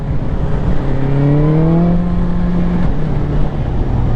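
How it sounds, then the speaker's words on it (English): Adventure motorcycle downshifting into second gear, its steady engine drone dropping and then rising in pitch as the revs change, loud and close with wind noise throughout. "I'm gonna downshift to second"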